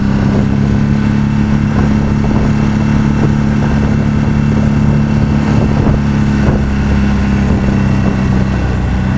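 Steady Ducati 749 motorcycle with an aftermarket Zard exhaust idling close by, a deep, throaty rumble with a constant low drone and occasional slight blips throughout.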